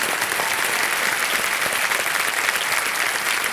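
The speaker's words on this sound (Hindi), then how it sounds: "जोरदार तालियां बज जाए इनके लिए।" Loud, dense studio audience applause on a TV quiz show set, a steady continuous wash of many hands clapping at close range throughout, with no talking on top.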